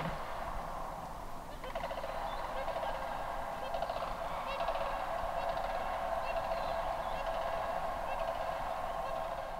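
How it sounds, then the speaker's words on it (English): A wild bird calls at sunrise with turkey-like gobbling, rapid rattling bursts repeating over a constant outdoor wind-like hiss, moderately distant. "I don't know what kind of bird that is"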